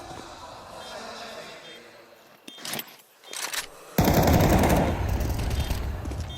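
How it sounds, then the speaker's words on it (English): M4 rifle gunfire in Counter-Strike 2 during a pro match: a couple of short bursts of rapid shots, then a loud sustained stretch of firing and action noise, with a commentator talking over it. "That's Kasuk with the M4 firing off"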